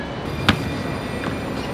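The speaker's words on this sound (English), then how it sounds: "We had to get on tram number 3" Riding tram number 3 in Amsterdam: a steady interior rumble of the moving tram with one brief, sharp clunk near the start, heard up close and with no talk.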